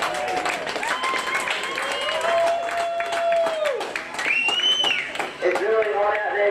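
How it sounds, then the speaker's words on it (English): Outdoor crowd applause and cheering for under-11 football players after a hot-weather match at a youth tournament, with clapping mixed with shouts and whistles and voices over it. "Go to a big round of applause for all the players today"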